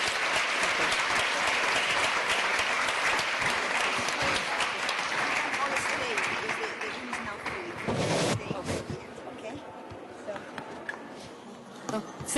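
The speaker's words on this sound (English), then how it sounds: "So please, your applause." Audience applause after a climate summit panel, a dense, steady clapping that fills most of the clip before thinning and fading toward the end, with some voices mixed in.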